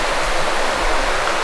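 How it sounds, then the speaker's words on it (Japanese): Clear river rushes steadily nearby in Tokushima, a constant, full hiss of flowing water with no pauses or other sounds. "いい川の音。"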